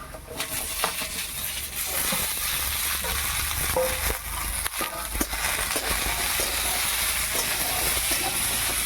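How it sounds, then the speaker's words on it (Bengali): Eggplant and potato pieces fry in oil in a pan, a loud continuous sizzle with repeated spatula scrapes and small metallic taps as they are turned over, no speech. "বেগুনটা কিছুক্ষণ এড়ে নেওয়ার পর আলু দিয়ে দিচ্ছি"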